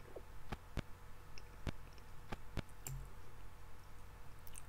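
Vinyl crackle and scratch clicks from the iZotope Vinyl plugin: a handful of sharp, separate ticks spaced irregularly over a faint steady noise bed, quiet and close.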